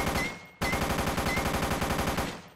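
Rapid automatic gunfire in the zombie game Karantiin, a loud, steady stream of evenly spaced shots after a brief pause, continuing close and unbroken to the end.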